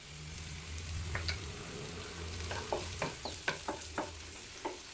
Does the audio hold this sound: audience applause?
no